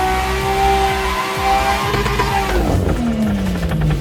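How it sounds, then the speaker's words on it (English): A car's engine revs hard and holds high in a standing burnout, tires squealing and skidding, then the pitch drops as the brake releases and it rolls forward; loud and close, with no talk. "Alright, standing burnout. Now we're going to release the brake"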